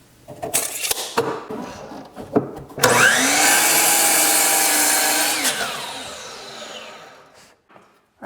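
A power saw cuts a wooden board into pieces after a few nearby knocks and handling sounds. It revs into a loud, sustained whine for about three seconds, then winds down and fades.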